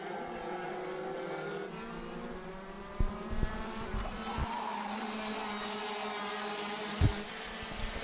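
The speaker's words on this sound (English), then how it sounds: "It doesn't look like there's anything wrong with Len Nys' car" Race cars on a circuit during a closely packed BNL 2 race, a steady far-off engine drone with a few sharper thumps and bursts rising over it.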